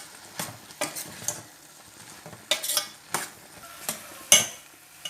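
Snake gourd stir-fry with sambar powder and garam masala being stirred in a pan: a series of distinct scraping strokes at an uneven rhythm over a faint sizzle, close and moderately loud, with no voices.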